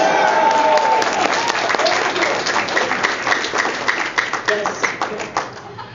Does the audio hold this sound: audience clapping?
yes